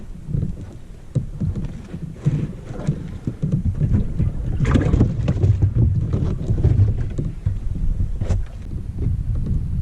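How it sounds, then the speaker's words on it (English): Wind buffets a fishing boat out on open lake water on a cold day, a steady low rumble with gusty swells and occasional sharp bumps of microphone wind noise, loud and close throughout with no talking. "The wind's picking up, blowing a little bit."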